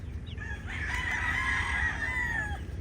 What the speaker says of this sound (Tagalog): puntahan natin mga ka-chicks